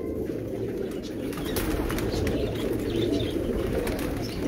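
Domestic pigeons of pure Amritsar breeds in a fancier's loft, cooing continuously and loudly up close, with occasional wing flutters.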